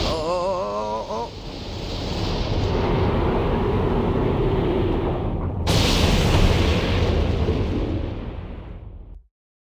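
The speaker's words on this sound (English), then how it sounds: "Just an explosion and that's it" A deep, roaring explosion in the Disgaea 2 video game rumbles for several seconds, with a second loud burst midway, then cuts off abruptly to silence.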